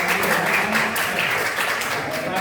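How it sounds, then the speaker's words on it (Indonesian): Classroom applause during a chemistry lesson, a steady dense patter of many hands clapping together, fairly loud and continuous, with some voices mixed in. "Tepuk tangan dulu Bapak."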